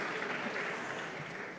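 An audience at a women's awards event in Mumbai claps steadily for models showing off jewelry, a dense, even wash of applause that stays fairly faint and distant throughout.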